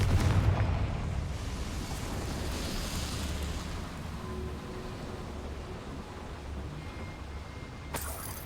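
A Confringo explosion spell fires in Hogwarts Legacy, opening with a loud blast that fades into a long, steady rumbling roar with no voices.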